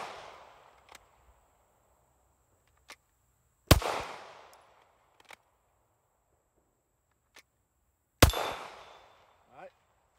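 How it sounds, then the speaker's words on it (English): Two loud, sharp handgun shots ring out outdoors, several seconds apart, each followed by a short echoing decay. Faint clicks and handling noises of drawing the pistol from a holster fill the quiet gaps between shots. "Just draw and fire."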